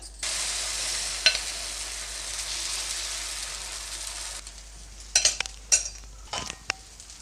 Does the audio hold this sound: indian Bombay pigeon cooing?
no